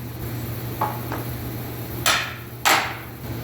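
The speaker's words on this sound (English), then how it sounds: "Now I'm just going to shave this down right here with the axe." An axe strikes a piece of wood, shaving it down to shape a new axe handle, with a couple of light taps followed by two sharp, close chopping hits.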